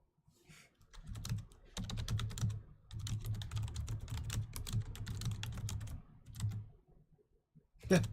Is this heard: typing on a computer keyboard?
yes